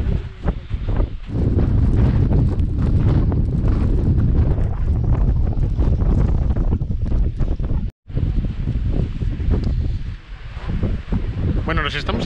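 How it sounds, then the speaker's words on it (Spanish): Strong, steady wind buffeting the microphone on the slopes near the Tajogaite volcano on La Palma, a loud continuous roar that barely dips for twelve seconds, with a brief cut near the end. "Igual aquí ahora cambiamos de vertiente y deja de haber tanto viento."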